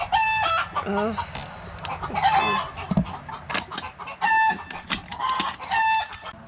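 A broody hen sits on a nest of eggs, giving close, repeated clucks and a few rising squawks in an uneven rhythm, while a person briefly speaks.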